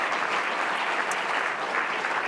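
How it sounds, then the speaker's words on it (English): An audience at the 2021 Rolex LPGA Awards ceremony applauds in a dense, even burst of clapping that holds steady throughout. "So please give Inji a round of applause for her season."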